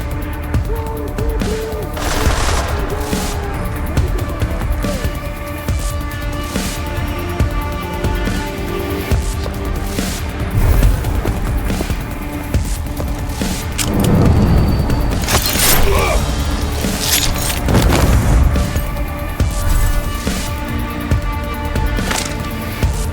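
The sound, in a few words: gunfire in a video game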